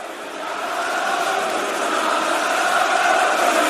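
A large WWE arena crowd reacts to John Cena with a sustained roar that swells in the first second and then holds loud and dense, no single voice standing out.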